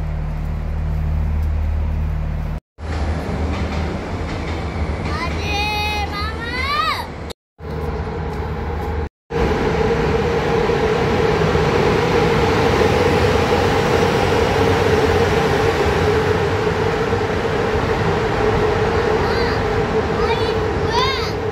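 A long train rumbles past close by in a loud, continuous roar with rhythmic clatter of wagons, after brief handling noise and children's voices near the start; the passing carries on steadily to the end.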